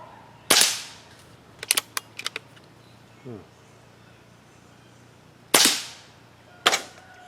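Shots from a Benjamin pump air rifle aimed at a steel swinging target that are missing it, heard as a few sharp cracks spread apart with a quick cluster of clicks between them and no metallic ring.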